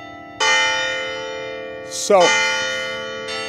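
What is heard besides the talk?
tolling church bell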